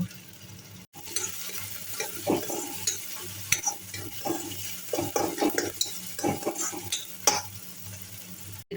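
Tomatoes, green chillies and curry leaves frying with onions in a pan, steady sizzle under frequent scraping stirs and light utensil clinks, close up with no talk.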